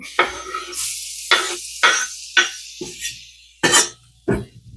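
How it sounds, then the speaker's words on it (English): Shallots go into a pan of butter and oil, giving bursts of sizzling and stirring that come in short, close, repeated spurts, with quiet gaps between them. "Now, shallots are going in."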